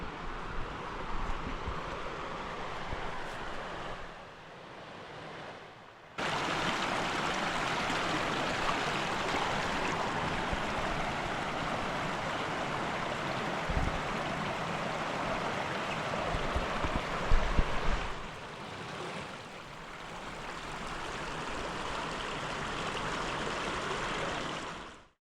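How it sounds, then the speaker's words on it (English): A woodland creek along a trail flows in a steady broadband rush, close and constant. The sound briefly drops near the start and later returns, with some wind buffeting on the microphone. "I have made it down to the creek."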